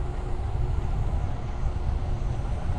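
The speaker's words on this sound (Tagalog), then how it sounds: "Lakas ng andar ng makina." Loud, steady engine drone from a running machine near the East Coast bike path in Pohang, a continuous low rumble with no break and no voices over it.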